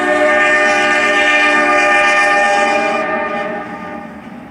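A Midland Heritage Unit locomotive passes loudly on a Western Maryland line in Thurmont, its horn sounding in a strong sustained chord over rolling rail noise that fades slightly at the end.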